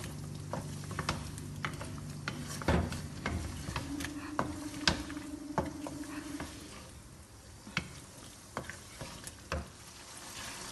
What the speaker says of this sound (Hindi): इसको अच्छे से भूनेंगे कि लहसुन अदरक का भी कच्चापन ख़त्म हो जाए।